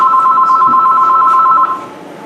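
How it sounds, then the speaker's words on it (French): A telephone rings with one continuous two-tone electronic trill that lasts about a second and a half, then stops, leaving faint background hiss. "le téléphone sonne"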